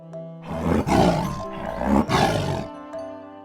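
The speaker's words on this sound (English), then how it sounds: "T for tiger." Tiger roaring in two deep, rough, loud bursts close up, each swelling and fading, followed by a short quieter tail.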